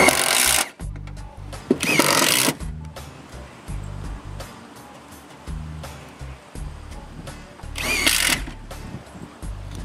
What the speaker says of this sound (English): Then René screws them in place.